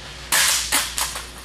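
An ATI OMNI Gen2 rifle drops onto a half-inch rubber mat laid over a concrete floor, landing with one sharp, loud close impact followed by several quickly fading bounce knocks, with no talking.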